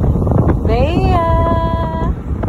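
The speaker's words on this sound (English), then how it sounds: "So windy." Strong wind buffets the microphone on a moving multicab, a loud continuous rumbling roar throughout, with a voice heard speaking over it.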